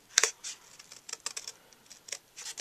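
Scissors snipping through card stock while making a gate fold shutter card, a quick series of close, crisp cuts in short uneven bursts, heard alone.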